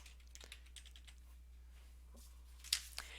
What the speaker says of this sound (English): So I wanted to say to marketing staff, so I'm going to type marketing staff.